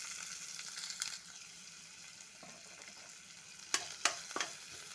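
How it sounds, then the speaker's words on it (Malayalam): Urad dal and green chillies frying in a mix of oil and ghee for upma, a soft steady sizzle close by with a few sharp stirring scrapes toward the end. "ഉഴുന്നിനി കിടന്നങ്ങ് ഒന്നുകൂടെ മൊരിയും കേട്ടോ."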